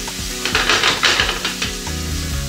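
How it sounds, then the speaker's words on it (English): Blanched asparagus spears sizzle loudly in a hot pan and are stirred around, with scraping and clinking against the pan in bursts over steady frying hiss. "Put it into the pan, and all we're going to do is now cook it to the point where it starts to wilt."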